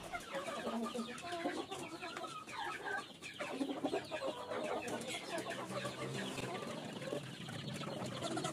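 Young free-range village chicks, two and three weeks old, being moved for sale at a weekly poultry market, keep up a dense continuous chorus of peeping and clucking with occasional louder calls over a busy background.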